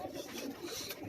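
Pigeons coo softly and continuously at close range on a rooftop loft in New Rizvia Society, Karachi, with low murmuring calls overlapping through the moment.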